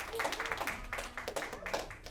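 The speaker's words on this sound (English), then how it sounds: "So big round of applause to Danielle all the way up the moon" An audience claps after a puppet show about Galapagos George, a steady patter of many hands across the whole moment, fairly faint and even, with a voice briefly mixed in.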